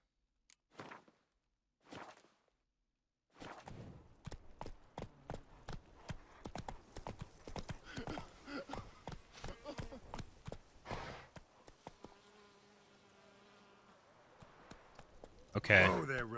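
Roach the horse clip-clops along in Witcher 3, a quick rhythmic run of hoofbeats that starts after a couple of isolated steps and fades near the end, followed by a brief louder burst.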